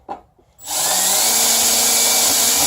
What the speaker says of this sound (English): I want to pre-drill my holes